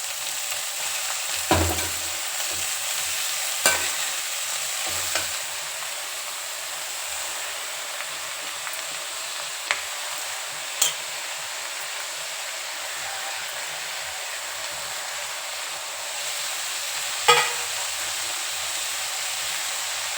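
Leafy greens frying and being stirred in a pan for a home-cooked palya: a steady sizzling hiss throughout, broken by a few sharp clicks and scrapes of a spatula.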